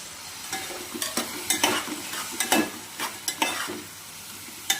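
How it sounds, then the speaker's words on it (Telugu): Mushrooms frying and stirred in a pan for mushroom biryani, a steady sizzle with repeated sharp scraping stirs of a utensil against the pan, close and fairly loud, with no talk. "ఈ టైంలో మనం మష్రూమ్స్ యాడ్ చేసుకుందాం"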